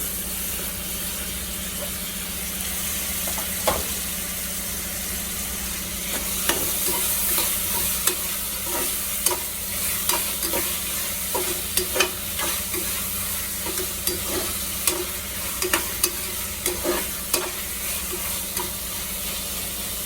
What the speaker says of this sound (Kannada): ಈಗ 2 ದೊಡ್ಡ ಟೊಮೊಟೊ ಹಚ್ಚಿಟ್ಕೊಂಡಿದ್ದೀನಿ, ಅದು ಕೂಡ ಹಾಕ್ತಿದ್ದೀನಿ.